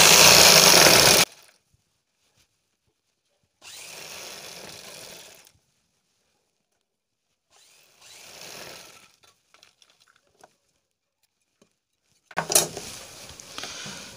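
A sewing machine stitches elastic onto a bra in short separate runs: a loud burst at the start, two softer whirring passages in the middle, and another loud burst at the end, with quiet pauses between.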